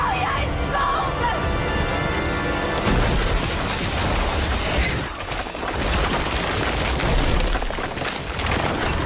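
A bomb goes off in an action film scene, a loud sustained boom and rumbling blast that fills the whole span, with debris-like crackle and a brief dip midway before the roar swells again.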